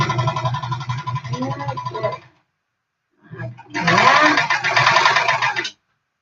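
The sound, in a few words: sewing machine stitching a quilt strip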